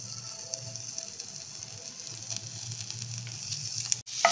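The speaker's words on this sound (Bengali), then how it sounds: "শ্রিম্পের হেডগুলো নিয়ে নিলাম বা মাথাটা নিয়ে নিলাম, নিয়ে মাখনের মধ্যে একটুখানি ভেজে নিচ্ছি।" Shrimp heads frying in butter in a pan, a steady close sizzle with faint crackle running throughout, ending in a brief clatter.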